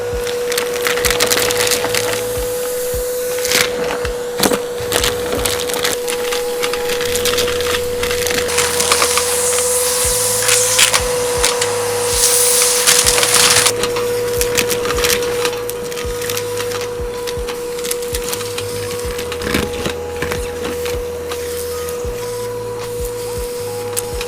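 A budget wet and dry vacuum runs steadily, loud and close, sucking up big chunks of stone, with irregular rattling and clattering of rock through the hose over a constant motor hum.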